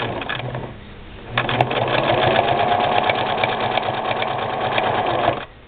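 A Singer 6212C sewing machine stitching fabric for cross-hatched thread work runs in a steady, fast, whirring rhythm for several seconds after a brief start-up, loud and close, then stops abruptly.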